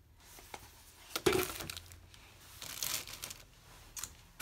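Quiet clinks and rustles as a glass container is picked up and set down, a few sharper knocks between softer handling noises.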